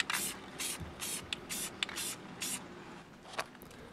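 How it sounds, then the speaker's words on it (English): Dark bronze metallic spray enamel hisses from an aerosol can onto sealed wood in a series of short bursts, about eight close, fairly loud sprays with brief pauses between them. "then use a metallic spray enamel"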